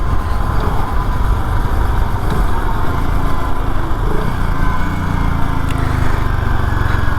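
A BSA 650 Gold Star motorcycle engine runs steadily throughout, a loud, continuous close-up drone with a rough low-end rumble and no talking.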